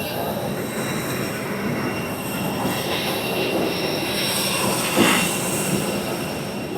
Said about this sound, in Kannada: ಬಂತು ಫ್ಲೈಟು.